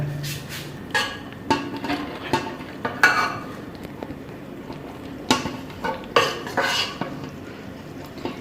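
Zarda sweet rice being dished out from a pot, with a series of sharp metal spoon clinks and scrapes against the cookware, close and fairly soft, separated by short quiet gaps.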